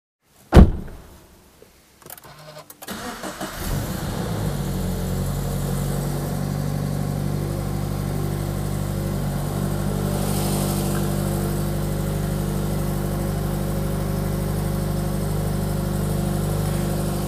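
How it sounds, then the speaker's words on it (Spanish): A click and a brief crank, then a Toyota GT86's naturally aspirated engine catches on its first start after a remap and settles into a steady, low idle that rumbles on evenly for the rest of the clip. "Y ahora toca darle calor, el primer arranque."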